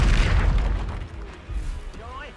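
A Confringo blasting spell explodes in the Hogwarts Legacy video game, a loud booming burst up front that rumbles and decays over a couple of seconds, with softer combat noises trailing behind.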